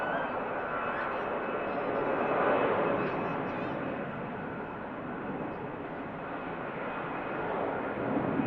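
EasyJet jet airliner at Manchester Airport spooling up its engines, a steady broad roar that swells slightly and holds throughout, continuous and fairly distant.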